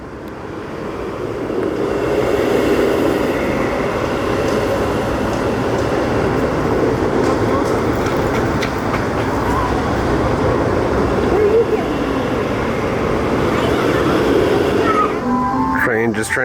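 A SeaWorld Orlando Ice Breaker roller coaster train, running during outdoor testing, moves over its track with a sustained, fairly loud rolling rumble that builds in the first seconds and carries on steadily before cutting off at the end.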